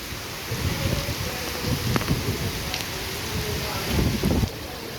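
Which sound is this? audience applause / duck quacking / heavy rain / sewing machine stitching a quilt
heavy rain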